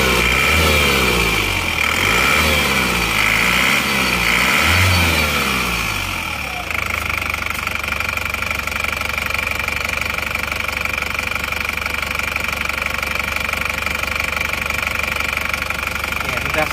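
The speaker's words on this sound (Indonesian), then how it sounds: "Suara mesinnya seperti ini." Isuzu Panther diesel engine idling after an engine overhaul, running steadily with a continuous mid-pitched knocking hum throughout, fairly loud and close, with a person talking over it in the first few seconds.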